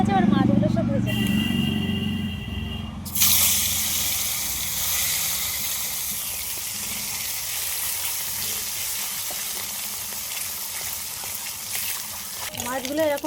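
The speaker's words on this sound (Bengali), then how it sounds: "তেল গরম হয়ে গেছে, আর মাছগুলো সব ভেজে নেব।" Salted amudi fish rubbed with turmeric fries in hot oil with a steady, dense sizzle and crackle that starts abruptly after a few seconds of quieter kitchen noise and then holds evenly.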